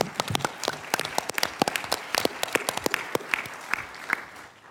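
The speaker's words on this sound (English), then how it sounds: "let's give a round of applause to those folks who are" A conference audience at a Medicare policy event claps for federal program staff, giving crisp, distinct hand claps that start in a quick burst, then thin out and taper as the applause winds down.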